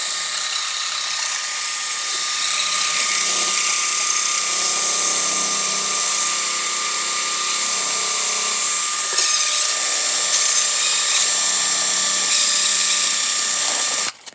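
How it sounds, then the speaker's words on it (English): A drill bit spins inside the hole of a cork fishing-rod handle during a micro Skagit rod conversion, giving a steady, close, whining mechanical drone for about fourteen seconds with a slight ratcheting texture. "you just want a drill bit that you can rig up in here and get it in this hole to fit tight"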